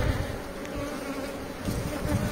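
Honeybees inside an iron beehive produce a dense, continuous close-up buzzing drone that fills the short moment without pause.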